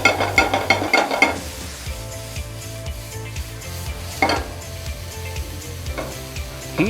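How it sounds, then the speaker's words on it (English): Chopped onions and green chili sautéing in a pan until golden brown, a steady close sizzle with repeated light scrapes and taps of a spatula, louder stirring at the start. "Saute till you get a slight golden brown color"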